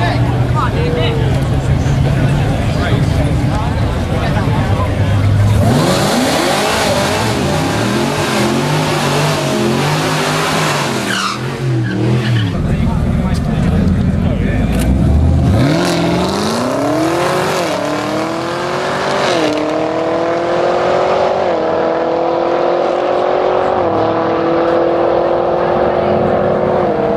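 1000hp Camaro ZL1 revving and launching hard at an autocross event, loud engine roar with rising gear-by-gear pulls, under continuous nearby talk.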